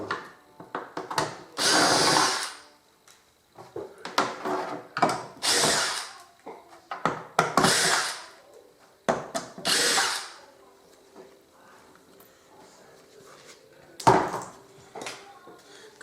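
A power drill fitted with a chuck bit that isn't seating fully, running in several loud whirring bursts of a second or two, separated by pauses filled with quieter rattling and handling clatter.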